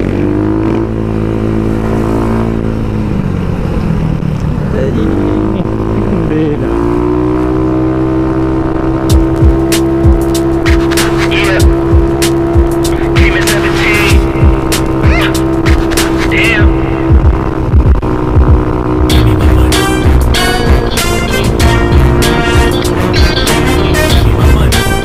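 Honda Click 125 and Click 150i scooters race along a road, a loud, sustained engine drone that climbs in pitch as they accelerate, with wind buffeting and a brief rattle near the end.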